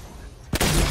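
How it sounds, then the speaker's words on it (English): A Fortnite boogie bomb goes off with a sudden sharp burst about halfway through, after a moment of quieter game ambience, and busy noise continues afterward. "I'm boogie bomb him."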